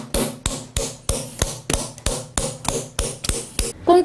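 Chisel struck with a mallet into wood during traditional Korean wood-sign carving, about a dozen sharp, evenly spaced taps in a steady rhythm, close and clear with no voices.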